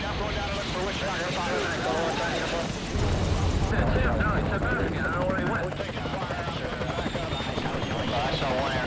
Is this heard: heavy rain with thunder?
no